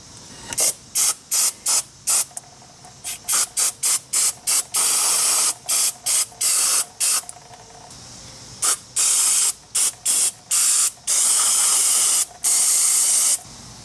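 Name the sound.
brake cleaner aerosol spray on brake caliper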